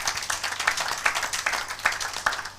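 A church congregation applauds during a sermon, with steady rhythmic clapping in regular beats and a crowd texture beneath it.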